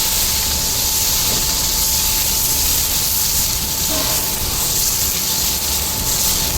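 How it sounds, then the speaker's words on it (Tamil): Ground onion paste sizzles in hot sesame oil for vatha kuzhambu, a loud, dense, unbroken hiss that holds steady from start to finish with no voices over it. "அடுத்து அரைச்சி வச்சுருக்க வெங்காயத்தை போட போகிறாரு."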